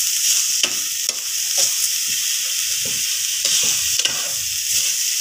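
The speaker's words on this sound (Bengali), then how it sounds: "নারকেলটাকে এইভাবে লাল লাল করে ভেজে নিতে হবে।" Grated coconut frying in a pan with sugar, a steady loud sizzle underlying repeated scraping strokes of a spoon stirring, close up and continuous without speech.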